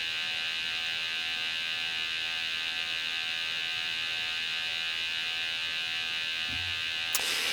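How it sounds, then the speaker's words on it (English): A Rae Systems wireless gas detector sounding from the background as a steady high-pitched electronic tone, continuous and unbroken beneath a low hum, with a brief knock near the end. "You're probably wondering what's beeping in the background."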